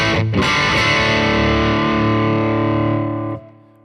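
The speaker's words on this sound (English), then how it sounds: "The basic sound that I use is a Soldano, I think it's the SLO 100 preset that comes with a Quad Cortex" A sustained, heavily distorted electric guitar chord rings out through a Soldano SLO 100 amp preset on a Neural DSP Quad Cortex, struck once and held loud before cutting off abruptly near the end.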